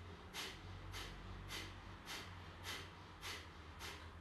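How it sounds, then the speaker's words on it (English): Seven forceful, short, sharp exhales from the belly during breathwork, evenly spaced about half a second apart, each a breathy puff, fairly close and quiet, with no talking. "Forceful breaths at the belly. Short, sharp, quick exhale breaths."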